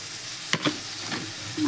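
Tomatoes dropped into hot oil for chicken curry, giving soft sizzling with a few brief stirring scrapes, close and fairly quiet, no voices.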